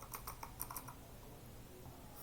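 Someone types on a computer keyboard on a Windows 10 PC, a quick cluster of crisp key clicks that thins out into quiet, faint and close-up with no talk.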